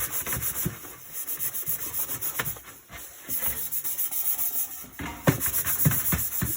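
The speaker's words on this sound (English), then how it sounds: "I typically use like one of those Scotch pads to just roughen up everything a bit and maybe take off the deeper scratches" Scotch scouring pad scrubbing the metal casing of a Sony CMT-CP33 minidisc system, giving steady close rubbing strokes in uneven bursts with brief pauses.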